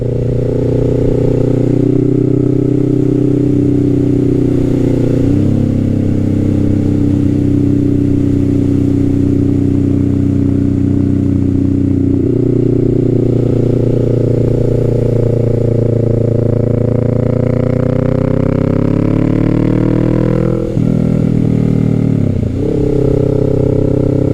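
A Kawasaki Z650 midsize motorcycle engine revs steadily upward past about 4,000 RPM, a loud, close, continuous drone rising in pitch with gear shifts and a brief dip near the end, no voices.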